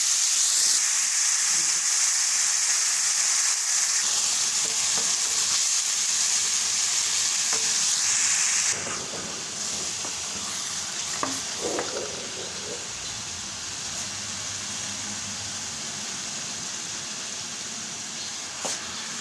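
Food frying in hot ghee gives a loud, dense sizzle that drops partway through to a steadier, quieter hiss, with occasional stirring clinks, close by and alone.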